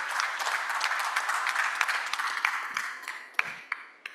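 Dense audience applause at a conference on electric vehicle charging fills the space, steady clapping from many hands that thins out toward the end with a few louder individual claps.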